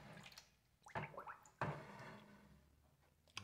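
Alum tanning water sloshes and drips as a mink pelt is moved through it, with several wet splashes and squishy drips, close and fairly quiet.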